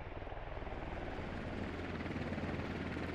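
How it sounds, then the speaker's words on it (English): Military helicopter in the Squad video game, its rotor chopping in a steady low throb that starts slightly uneven and settles into a loud, continuous drone close by, with no talking. "Helicopter might end up going down."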